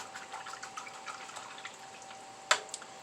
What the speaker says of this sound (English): Rinse my brush off some more.